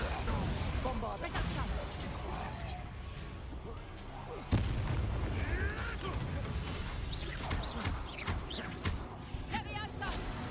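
A Bombarda blasting spell explodes in Hogwarts Legacy, one loud blast landing among a dense wash of continuous combat booms, crashes and spell effects, with a voice talking over the din.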